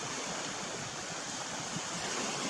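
Chesapeake Bay water washes steadily against the shore under a light east wind, a continuous soft hiss of surf with faint wind buffeting and no voices.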